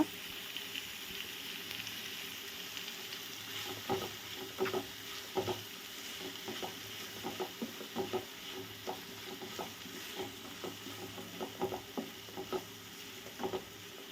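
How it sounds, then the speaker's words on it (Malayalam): Chicken momo filling stirred as it fries in a pan, a steady soft sizzle under repeated spoon scrapes and taps, close up and fairly quiet, with no voices. "അതിലേക്ക് ആവശ്യത്തിന് ഉപ്പും കൂടി ചേർത്ത് കൊടുക്കുക. അതിനുശേഷം നല്ലപോലെ ഇളക്കുക."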